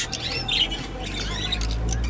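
Caged canaries, goldfinches and similar small finches give a few bright squawks and chirps over a steady low hum, fairly close, with no talk.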